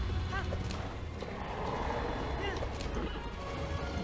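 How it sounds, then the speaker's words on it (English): A horse in a Zelda video game whinnies and gallops, with rhythmic hoofbeats running steadily throughout and two short neighs rising above them, under quiet game noise. "Oh, it's because my horse is scared."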